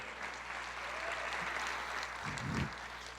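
Church congregation applauding during a Pentecost service, a soft, distant wash of clapping from many hands over a low steady hum, with a brief thump near the end.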